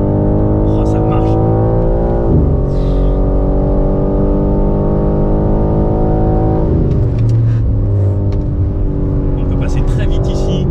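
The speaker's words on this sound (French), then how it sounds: "c'est assez impressionnant comme voiture" A four-wheel-drive Porsche sports car accelerates hard on a race track, its engine note rising steadily through the gears, dipping at each shift, and climbing again, loud and close with a few brief clicks and knocks.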